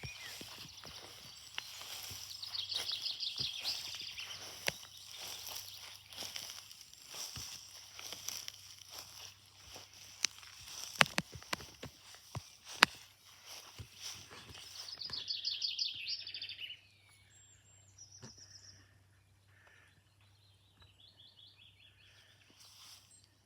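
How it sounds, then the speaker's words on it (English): Many birds chirp and sing in a spring garden in Ireland, a steady chorus of faint high calls spread across the scene with occasional louder close notes and a few soft knocks. "There's a lot of birds."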